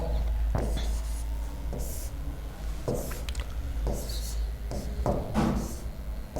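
A marker or chalk squeaks and scrapes across a classroom board in short strokes as a differentiation formula is written, with several separate bursts and soft taps, and a teacher talks between the strokes.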